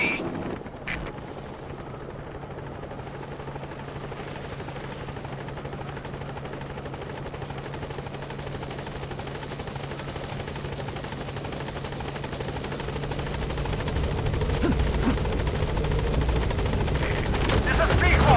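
The B-Quad support helicopter in Metal Gear Solid V approaches a landing zone, a continuous rotor thrum that grows louder toward the end, with radio voices over it.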